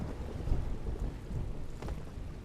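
Stormy weather in The Evil Within video game: a steady wash of rain with low, rolling thunder rumbles underneath, continuous and fairly subdued throughout.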